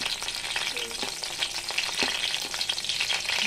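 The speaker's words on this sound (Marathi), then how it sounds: "तेल तापलं की त्यामध्ये थोडं जिरं टाकायचं आहे. मिरची टाकायची आहे." Cumin seeds and green chilies fry in hot oil for a fasting-day vegetable dish, producing a steady, crackling sizzle with scattered pops and light stirring scrapes, close and continuous, with no talk.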